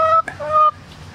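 Chickens cluck with short tonal calls close by, one brief burst followed by a sustained squawk, then quiet.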